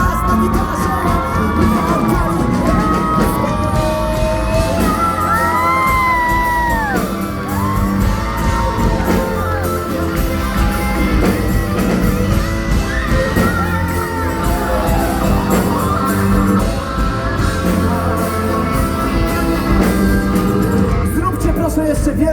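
A concert crowd at the outdoor WOŚP finale in Warsaw cheers, whoops and shouts continuously, loud and dense, with bangs and voices rising out of the roar.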